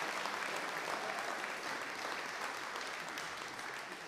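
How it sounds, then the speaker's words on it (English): An audience gives sustained, dense applause after a jazz orchestra's concert, a thick even wash of many hands clapping, steady and somewhat distant, fading slightly toward the end. "I think another round of rapturous applause is really called for."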